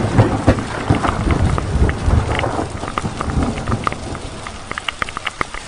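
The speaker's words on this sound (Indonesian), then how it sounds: "Hujan semakin lebat dan angin yang berembus mulai agak terasa dingin di tulang." Heavy rain pours steadily and loudly on a mountain trail on Mount Sindoro via the Kledung route, with low rumbling gusts and scattered sharp drips standing out toward the end.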